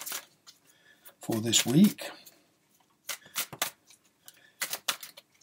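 Tarot cards are shuffled by hand in short, crisp riffling bursts close to the microphone, broken by pauses, with a person speaking briefly between them.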